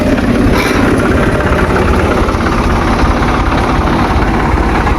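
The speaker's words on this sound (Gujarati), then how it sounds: "એક સાથે બે ટ્રેક્ટર જોઈન થયા છો" Two tractors hitched together strain to pull a stuck tractor free, their engines giving a loud, steady, close rumble that runs without a break and with no talk.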